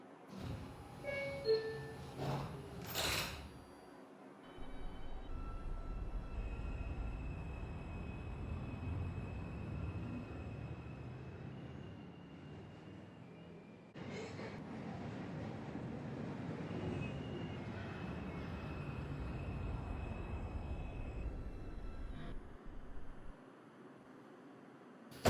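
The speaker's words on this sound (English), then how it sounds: "This is a Manhattan-bound 6 train." An R142 subway car on a Manhattan-bound 6 train runs with its HVAC switched off, a low steady rumble of wheels and motors broken by brief door-motor and braking noises, moderately quiet and continuous.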